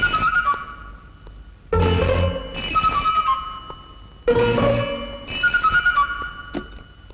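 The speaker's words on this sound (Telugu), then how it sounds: "ఏమిటి సార్, ఫోన్ తీయడానికి భయపడుతున్నారు?" A telephone rings loudly and close in repeated double-burst electronic rings separated by short pauses, with no speech over it.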